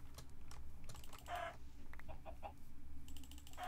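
Minecraft chickens cluck faintly in brief bursts over constant rapid computer keyboard typing, with a low hum beneath.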